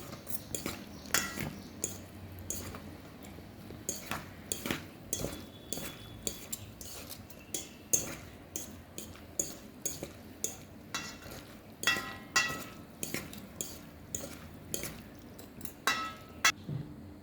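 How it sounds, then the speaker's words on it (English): A spoon mixes mango avocado salsa in a bowl, making close, repeated clinks and scrapes in an irregular rhythm for many seconds, with no voice over it. "Now let's mix this nicely"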